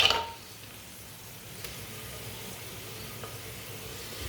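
Sliced onions fry gently in a clay handi for mutton pulao, browning lightly. After a brief knock at the start, a faint, steady sizzle continues on its own at low volume.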